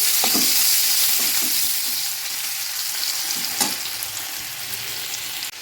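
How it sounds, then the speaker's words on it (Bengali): Chopped onion frying in hot oil in a wok while a Bangladeshi dried-fish curry with potatoes is cooked, a steady loud sizzle that hisses briefly louder when stirred and then settles, heard alone with no talk. "ফোড়নে দেব পেঁয়াজ কুচি,"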